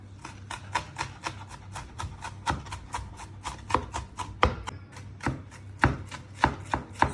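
A knife finely chopping onions, garlic, peppers and parsley on a cutting board, brisk rhythmic taps in quick succession, near and clear with no talking.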